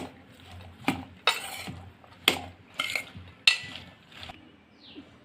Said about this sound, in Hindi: हम इसको अच्छे से मिक्स करेंगे।